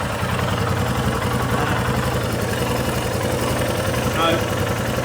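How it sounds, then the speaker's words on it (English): An air-cooled Royal Enfield Himalayan single-cylinder engine idles close up during a valve check, a steady low throbbing pulse that holds even throughout, with a brief higher rattle near the end. "No, it's an air-cooled engine."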